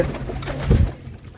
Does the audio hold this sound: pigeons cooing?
yes